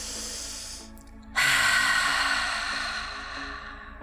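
A slow, deep yoga breath, drawn in through the nose and then released audibly through the mouth as a long airy exhale. The breath sounds close and fairly loud, with no talking.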